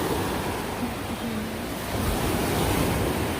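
High-tide ocean waves on Boracay beach wash and roar continuously in a broad surf wash, with some wind buffeting the microphone and no talking.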